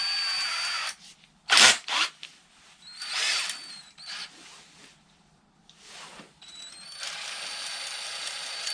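A TOPSHAK TS-ED3 20V cordless electric drill fitted with a right-angle attachment whirs in short close bursts, one sharp loud spin-up followed by several quieter revs and a longer sustained run near the end.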